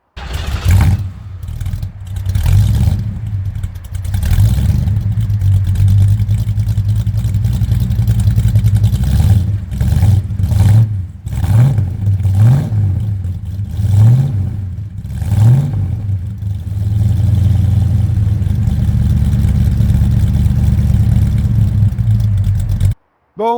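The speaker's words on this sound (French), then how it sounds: "Je vais vous la démarrer, comme ça vous allez pouvoir en plus entendre le son de ce gros 7 litres" A 1971 Ford Mustang Mach 1 with a 7-litre 429 Ram Air V8, idling loud and close with a deep rumble, blipped repeatedly into short revs that rise and fall before settling back to a steady lumpy idle.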